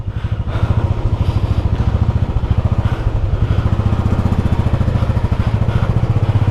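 A motorcycle engine runs steadily and close up, with a fast, even pulsing chug throughout, heard on a ride from Siliguri toward Gangtok.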